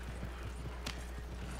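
Horse hooves clip-clop at a steady rhythm in a Red Dead Redemption western game, under a constant low rumble of background noise.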